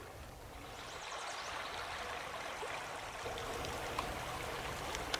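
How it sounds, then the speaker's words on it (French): Calm seawater lapping near the shore on Corsica, a faint, continuous soft splashing and trickling wash with occasional small drips, no wind and no voices. "On entend le clapotis de l'eau"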